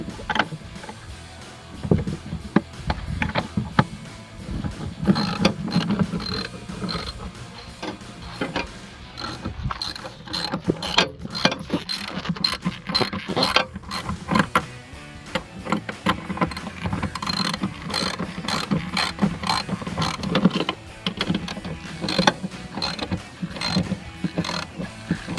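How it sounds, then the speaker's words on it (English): Ratchet tightening a bolt while installing a cold air intake on a Ford F-150 EcoBoost, rapid repeated clicking bursts close up, in several runs with brief pauses, no talk. "I ratchet back here."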